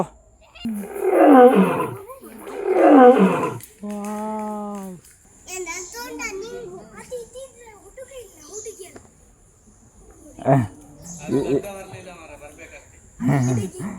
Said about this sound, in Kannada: ಸಿಂಹ ಉಂಡು